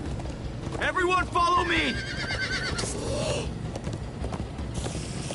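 Horses gallop and whinny in the video game Minecraft Story Mode, with clip-clopping hooves and a sharp neigh near the start running under excited shouted talk and game music.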